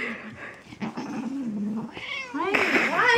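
A cat growls low and rough, then rises into a wavering yowl and caterwauling meows that grow louder toward the end, close by with no talking.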